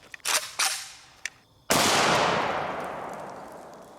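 An AK-47 rifle fires a 7.62x39 soft-tip round outdoors: a few faint clicks and knocks, then one sharp, loud gunshot whose echo rings and slowly fades.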